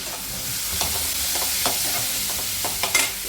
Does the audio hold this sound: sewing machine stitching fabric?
no